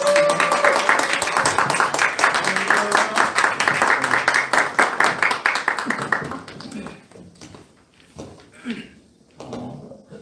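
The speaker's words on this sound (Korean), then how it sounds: "잠깐 일어서시면 저희가 뜨거운 박수로 환영하도록 하겠습니다." A church congregation claps loudly for about six seconds, the applause thinning out before a single voice begins speaking.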